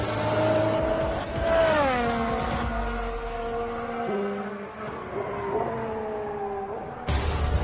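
A Formula 1 hybrid turbo race car engine sings at a high pitch, its note sweeping up and down through gear changes as it accelerates past, loud and close, then cutting off abruptly near the end.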